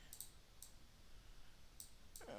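Faint computer keyboard clicking in a quiet room, a few sharp separate clicks spaced out over a couple of seconds with no talking.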